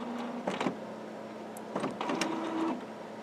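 A Canon Maxify MB5320 inkjet printer whirs and clicks through two short mechanical bursts as it powers up and feeds a sheet, faint and close in a quiet room.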